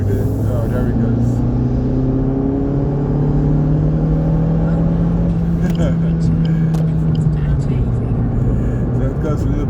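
A BMW motorcycle passes on a bend, its engine note a steady loud drone that swells and gently shifts pitch as it goes by, with someone talking over it throughout.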